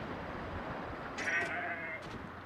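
A goat in the video game Zanki Zero gives a short, faint bleat over a low background hum, a single wavering cry lasting under a second.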